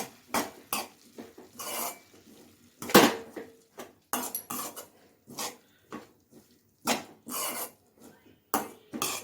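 Vegetable poriyal being stirred in a pan, with a spoon scraping and knocking against the metal in repeated short bursts separated by brief pauses, close and fairly loud, with no talking.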